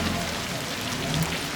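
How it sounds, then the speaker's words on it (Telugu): Rainwater dripping and pattering from a roof, a steady close wash of drops with no voices. "ఈ వర్షం నీళ్ళు కారుతున్నాయి పైన పడ్డాయా?"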